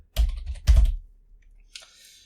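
Keyboard keys tapped in two short bursts of close, crisp clicks, followed by a fainter hiss-like sound, with no voices.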